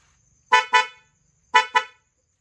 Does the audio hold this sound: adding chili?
no